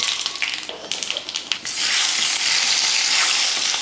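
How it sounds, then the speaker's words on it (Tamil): Mustard seeds, urad dal, fennel and chana dal hit hot oil for tempering, starting with crackling pops and spatters and then building into a loud, continuous close sizzle, with no voices. "எண்ணெய் காஞ்சதுமே கொஞ்சம் கடுகுளுந்து, கொஞ்சமாக சோம்பு, கொஞ்சம் கடலைப்பருப்பு."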